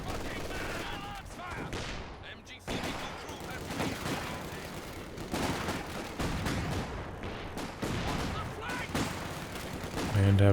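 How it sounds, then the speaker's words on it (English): Artillery shells fire and burst in a Company of Heroes 2 2v2 match, dense rolling booms and gunfire over a steady battle din, loud throughout with a heavier blast near the end. "Some more pit shells targeting these grenadiers."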